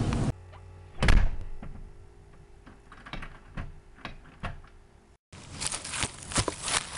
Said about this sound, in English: He locked the door!